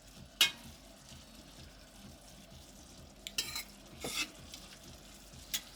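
Pear liqueur reducing in a pan, a soft steady bubbling sizzle with occasional louder scrapes and stirring clatters, no voices.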